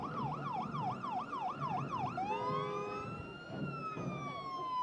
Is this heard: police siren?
yes